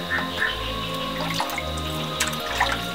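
Clear, cold mountain spring water running into a natural bathing pool, a steady trickle with small drips and splashes throughout.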